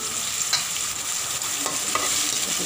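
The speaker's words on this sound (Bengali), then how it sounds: "গোটা রসুন দিয়ে আজকে আমি কষাবো" Whole garlic cloves sizzle and fry in a pan alongside onion, with steady crackling and occasional stirring clinks up close, no voices.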